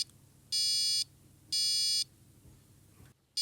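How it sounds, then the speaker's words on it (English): Buzzer on an Arduino Uno R4 WiFi gives two loud, flat electronic buzzes of about half a second each, separated by a short gap, over a faint room hum. "The next button is this one, which buzzes the buzzer for 1 second"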